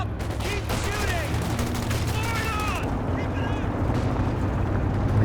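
Battle gunfire in the real-time strategy game Company of Heroes 2, a dense rattle of shots and explosions under steady background rumble, with a voice speaking over the combat throughout.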